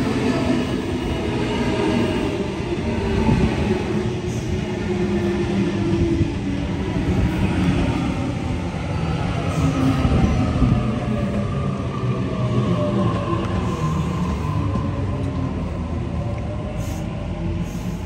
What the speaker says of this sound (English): Alrighty, here's my train.